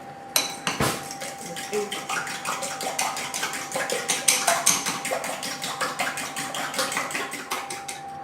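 Eggs are beaten into cooled choux pastry dough for profiteroles in a fast, steady run of close spoon-on-bowl clacks and taps that continues without a break.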